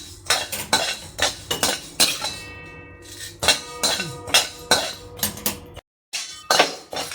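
A metal spoon repeatedly clinks and scrapes against a pan while thalipeeth flour grains dry-roast, with brisk rhythmic strokes, a short pause midway and a brief silent gap near the end, close and loud.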